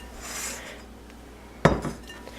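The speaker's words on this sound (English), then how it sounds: "you're going to want to pull out a large bowl" A large bowl is pulled out in a kitchen, a single sharp clatter of dishware striking near the end, after soft, faint handling and rustling.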